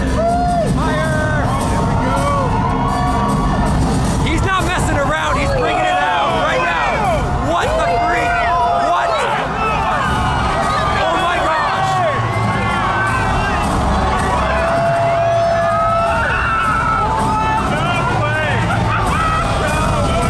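Dense crowd noise at a Cybertruck event, a steady crush of overlapping voices, shouts and cheering with occasional louder calls rising above the babble.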